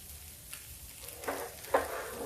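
Sweet chilla cooking in a pan, a soft steady sizzle with faint stirring scrapes and a couple of sharper spatula clicks toward the end, heard close and without talk.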